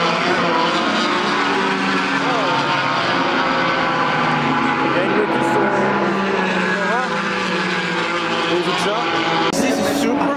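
Race cars, including an Aston Martin, drive past along a track beside a drainage gutter: a constant loud engine drone with whining pitches that rise and fall as cars go by, and voices talking over it.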